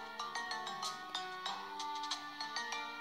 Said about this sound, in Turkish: Kusura bakmayın, zil çaldı. Kapıyı açmak zorunda kaldım.